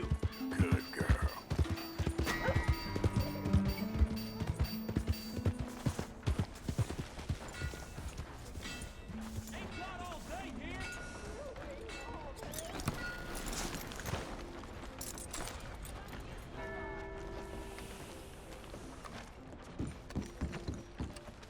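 Horse hooves clop in the video game Red Dead Redemption 2, a steady trotting rhythm over ambient game sounds and music, fairly faint, with occasional heavier thuds and mechanical clatter.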